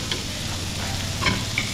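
Pork ribs fry in a pan with a steady close sizzle while a utensil stirs them, scraping now and then against the metal.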